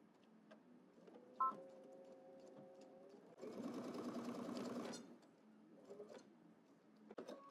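Sewing machine back stitching a double breasted jacket, a short whirring run of dense stitching in the middle, framed by quieter handling clicks and faint tones before and after.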